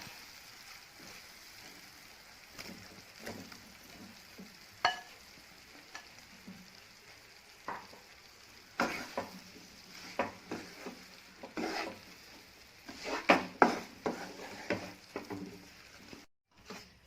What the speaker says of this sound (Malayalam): ഇനി നമുക്കിതിലേക്ക് കട്ട് ചെയ്ത് വെച്ചിരിക്കുന്ന ലിവർ ചേർത്ത് കൊടുക്കാം